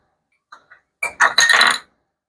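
A spoon scrapes and clinks around a bowl while stirring a Greek yogurt mixture, two faint light taps followed by a louder cluster of scraping strokes, close and alone.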